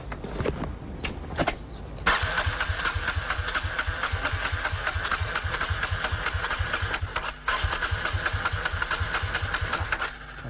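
A motorcycle that runs on pure water cranks briefly in a few stuttering bursts, then catches and starts, settling into a loud, steady, close idle with a dense rhythmic engine throb and one short dip near the end.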